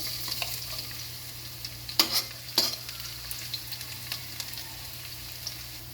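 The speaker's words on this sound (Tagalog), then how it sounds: "igisa na natin yung bawang" Garlic sautéing in oil in a pan for pork binagoongan, a quiet steady sizzle broken by a couple of sharp utensil clanks and light stirring scrapes, with no talking.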